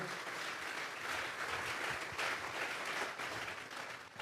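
Church congregation applauding together during a worship service, a dense, steady wash of clapping that fills the room for the whole stretch.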